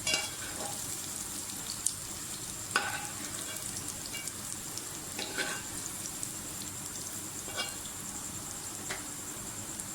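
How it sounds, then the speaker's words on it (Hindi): Onions stir-frying in a pan for a crispy okra dish, a steady sizzle and crackle running throughout with a few sharper spatter pops and light stirring scrapes, fairly close and moderate in level. "बस इतना स्टिर फ्राई करना है इसको"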